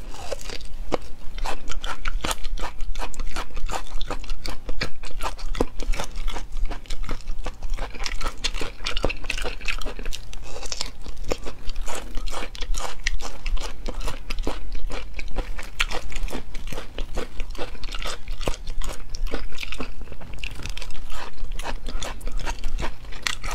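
Loud, close crunching and chewing of a crunchy stew of beef hide and vegetable root, with rapid, steady bites repeating throughout and no talking.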